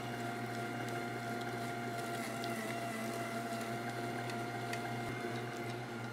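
An electric meat grinder works pork of 80% lean and 20% fat for fennel salami, giving a steady, quiet motor hum with no pauses throughout.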